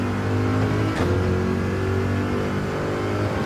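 A Corvette Gr3 race car engine in Gran Turismo 7 at Fuji Speedway revs hard and steadily, dropping briefly at a quick upshift into second gear before climbing again, loud and continuous.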